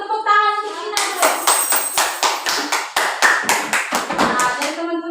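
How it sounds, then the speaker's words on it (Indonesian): Classroom applause for a student during a micro-teaching lesson: a close, lively burst of many hands clapping in a steady rhythm for several seconds, with a voice briefly audible at the start. "Tepuk tangan untuk Ina dulu."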